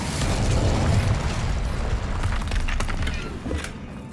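Incendio fire spell cast in Hogwarts Legacy, a loud continuous roaring whoosh of flame with low rumbling bursts and pops, sustained for several seconds before tapering off.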